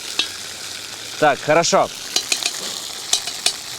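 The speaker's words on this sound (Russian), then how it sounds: "Вот оно, мясо наше в масло попало, зашкварчало." Meat hits hot oil and fries with a continuous crackling sizzle while being stirred for a Crimean Tatar soup, a few sharp clatters popping up over the hiss as someone speaks briefly.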